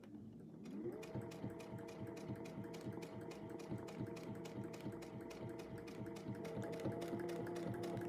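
A domestic sewing machine doing slow free motion quilting starts up after a short quiet moment, then keeps a steady rapid needle clatter with a low motor hum, close and alone.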